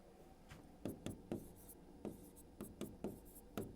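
Marker or chalk writing on a board during a maths lesson, a series of short scratchy strokes in an uneven rhythm, quiet and close with no talk over them.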